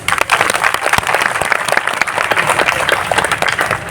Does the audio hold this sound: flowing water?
no